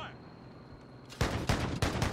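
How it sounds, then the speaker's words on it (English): Video game gunfire from an enemy shooting down from above, arriving as several sharp, fairly close bursts after a second of quiet, spaced roughly every third of a second. "we're being shot at by the guy above"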